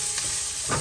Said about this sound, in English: Sauté the onion until it becomes translucent.